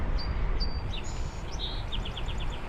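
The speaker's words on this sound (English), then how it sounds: "nice bird song" Bird song along a bike trail in the foothills: a series of thin, high chirps and whistled notes, moderately distant, over a steady low rumble of wind and riding noise.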